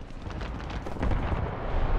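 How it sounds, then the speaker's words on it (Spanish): Rocket-like weapon fire in the War Thunder video game booms in a rough, rumbling series of blasts, loud and close, swelling heavier toward the end. "Es que parece que dispare cohetes"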